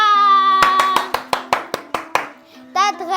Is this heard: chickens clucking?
no